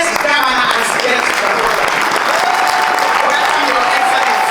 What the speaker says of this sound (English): Can we clap for our governor, the deputy governor, the youngest governor as guest?